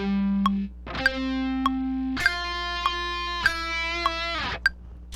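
Heavily distorted electric guitar plays part of a solo: a run of sustained, sharply picked notes with audible pick attacks, played alone without talking.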